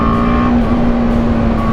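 A BMW G310GS single-cylinder motorcycle pulling away under throttle, a steady loud engine drone holding a high pitch throughout, close and without speech.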